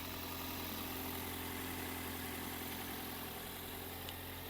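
A Toyota Avensis 1.8 16-valve petrol engine idling steadily and smoothly, a constant low hum with no revving, heard up close.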